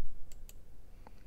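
Two quick, faint mouse clicks close together, followed by a softer click, in a quiet room.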